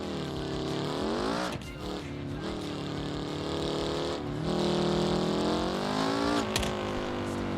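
Buggy engine in the BeamNG video game, a loud revving motor that climbs and drops repeatedly in pitch with brief lifts between pulls, close and dominant.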